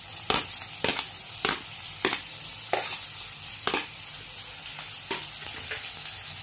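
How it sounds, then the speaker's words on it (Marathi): Onion and green chili frying in hot oil, giving a steady broadband sizzle with about nine sharp bursts of stirring or tossing spread evenly through, close and fairly loud, with no talking. "आता कांदा टाकूया आपण, मिरची आणि कांदा टाकायचा"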